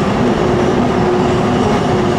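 A New York City subway R142A 6 train running toward 3rd Avenue-138th Street, a loud steady rumbling roar of wheels and car body with continuous rattling, heard from inside the train with no voices.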